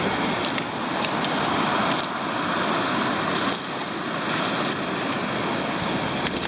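Ocean waves wash steadily onto a rocky coastal beach where agates and jasper are hunted, a continuous loud roar of surf and hiss with surges about every couple of seconds, no voices.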